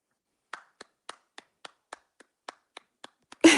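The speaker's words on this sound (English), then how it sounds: "That's me clapping." A single person claps hands about a dozen times in a slow, even rhythm, each clap crisp and close in a quiet room, ending with a louder burst of noise.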